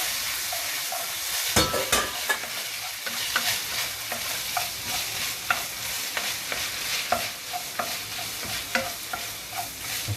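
Guanciale sizzles and crackles steadily in a pan for carbonara, with a spatula scraping and clattering as it is stir-fried, loud and close with no talking.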